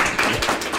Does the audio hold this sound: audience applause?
yes